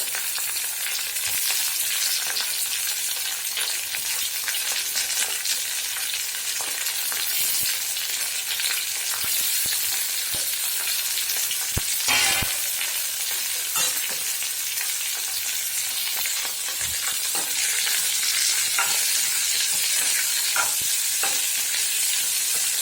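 Steady loud sizzle of bitter gourd frying in hot oil with sautéed onion and tomato, with scraping stirs of a spoon in the pan scattered throughout and no talking.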